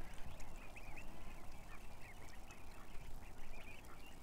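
Geese honk and quack repeatedly in short nasal calls over a dense, noisy outdoor background, steady and moderately close throughout.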